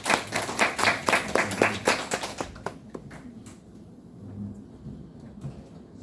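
A small audience at a tax office seminar claps in a short burst of distinct, rhythmic hand claps for about two and a half seconds, then trails off into quiet room tone with a few stray claps.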